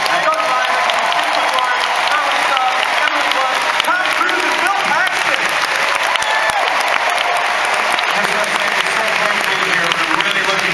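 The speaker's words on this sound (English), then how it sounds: "please, a huge round of applause for your wonderful panel" A large Comic-Con crowd applauds a film panel, dense and loud clapping sustained without a break, with cheers and voices mixed into the roar.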